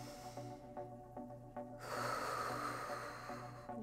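Breathing during a Pilates exercise: several short rhythmic snorting breaths over a low steady hum, followed by a longer, louder breathy exhale that holds for a couple of seconds, close to the microphone.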